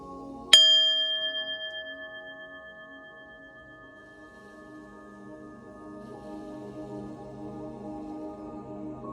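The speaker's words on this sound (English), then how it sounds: "I'm gonna ring the bell, clear your energy" A single clear bell strike rings out once and then decays slowly into a long, pure sustained tone that fades over several seconds in a quiet room.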